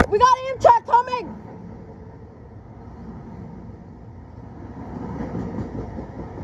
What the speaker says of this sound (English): We got Amtrak coming.